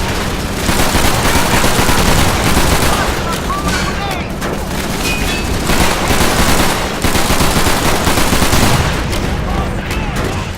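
Automatic gunfire from a submachine gun in the Call of Duty 3 video game: dense, continuous rattling bursts with heavy booms, loud and sustained throughout.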